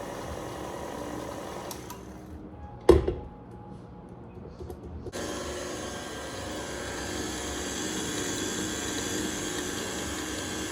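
An electric mixer whisks dessert batter in a home kitchen, a steady mechanical whir that cuts out briefly after a sharp clunk, then resumes as a continuous hum through the rest of the clip.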